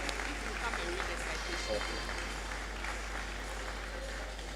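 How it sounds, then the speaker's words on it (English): Audience at a university academic awards ceremony applauding an award recipient, a steady, even wash of clapping heard from a distance under a low constant hum, with faint voices mixed in. "A big clap for Samuel."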